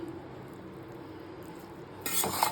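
Pulihora rice made with raw mango is stirred and mixed in a pan, soft scraping and rustling that turns brighter and louder near the end as the spoon works through the rice.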